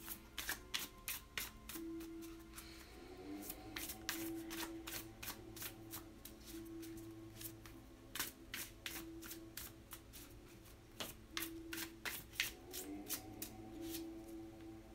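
Tarot cards being shuffled close up, with rapid crisp riffling flutters in repeated bursts and a faint steady hum underneath.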